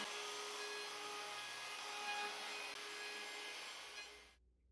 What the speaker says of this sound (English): I use a bigger router to round over the outside facing edges.